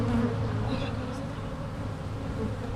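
Honey bees swarming around an opened, recently split beehive, a dense continuous buzzing hum close by, steady throughout.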